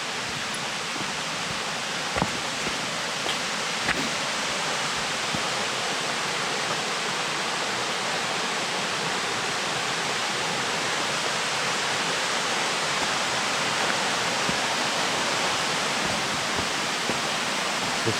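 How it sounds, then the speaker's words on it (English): A waterfall roars in a constant, dense rush of water, steady and loud throughout, with a couple of faint clicks and no voices. "I can hear the water rushing now."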